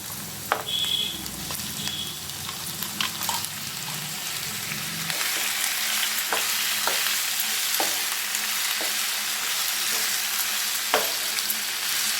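Quail pieces frying in a pan of hot oil with ginger and garlic: a continuous bright sizzle that swells after they go in, with scattered sharp spatter pops and stirring clicks.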